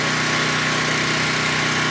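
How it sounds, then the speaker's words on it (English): Steady engine drone of a generator running outdoors nearby, a constant mechanical hum with a buzzing vibration, no talking. "that's the generator outside running right now"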